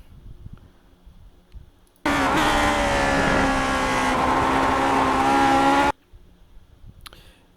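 Lotus 49 racing engine at Magny-Cours in the iRacing sim, held in fourth and bouncing off the rev limiter, a loud steady high-pitched roar that starts abruptly, holds for about four seconds, then cuts off.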